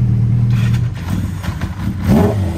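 A 2008 Suzuki Hayabusa with an LCI aftermarket exhaust revs close by, its engine note rising and falling in a couple of throttle blips over a steady idle, loud and alone without talk.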